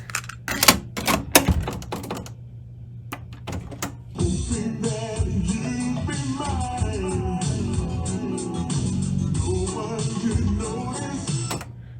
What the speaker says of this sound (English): Let's make sure this transport's in working order.